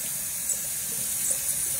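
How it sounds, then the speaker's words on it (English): Cold water runs steadily from a tap into a sink for a rinse during a wet shave, a constant close hiss with no pauses. "Cold water rinse, pardon the water."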